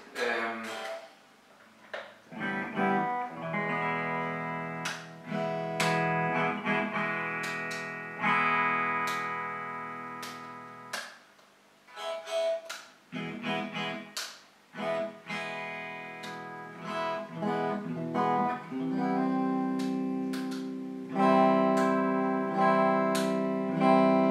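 Tom Anderson Classic electric guitar playing alone, strummed chords and picked notes with sustained ringing tones and brief pauses, clear and fairly loud throughout.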